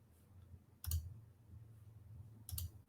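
Computer mouse clicks on a slow-running computer in an office setting, two short, sharp clicks about a second and a half apart over a low background hum.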